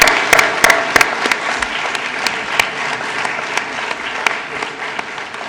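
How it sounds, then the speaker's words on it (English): Audience applause honoring sports clubs' achievements, a steady wash of many hands clapping at close range with sharp individual claps standing out, sustained through the whole stretch with no talk over it. "can we get a massive round of applause for all of their hard work and success?"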